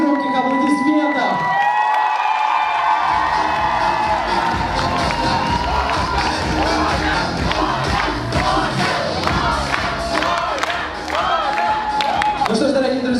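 Loud audience cheering and applause fill a hall at a student KVN comedy contest during a first-year students' week at Bashkir State University, with whoops and shouting from the crowd throughout and a voice emerging near the end.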